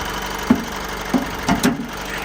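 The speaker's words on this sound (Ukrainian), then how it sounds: "Автомобіль рівненько працює, двигун рівнюсь" The 2.2-litre diesel engine of a 2014 Honda CR-V idles steadily close by, with a few soft knocks and taps over the constant low rumble.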